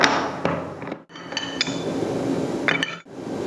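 Metal wrenches tightening a quick-release coupling onto a drill motor spindle: sharp metallic clinks and taps in irregular bursts, close and fairly loud, separated by short pauses.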